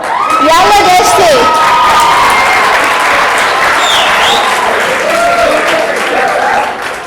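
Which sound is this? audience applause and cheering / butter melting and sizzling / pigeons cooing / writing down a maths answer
audience applause and cheering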